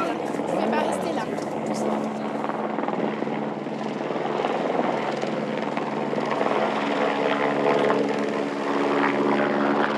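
A helicopter carrying a slung load over the Alps keeps up a steady, loud rotor and engine drone throughout, with a voice speaking over it.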